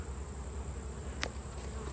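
Honeybees in combined hives, drones among them, hum steadily through an October hive inspection, a low continuous buzz with a brief sharp click partway through.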